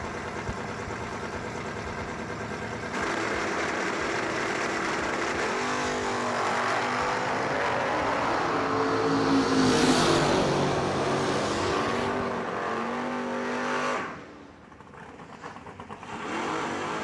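At a Moser Engineering door car drag race, cars launch and roar down the strip with rising, loud engine noise that builds, peaks, then drops off abruptly as they pass. Crowd and track ambience sit under the engines.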